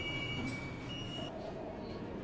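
A subway train in a cartoon rumbles along steadily with faint squealing wheel tones drifting above the low, constant rolling noise, moderately quiet throughout.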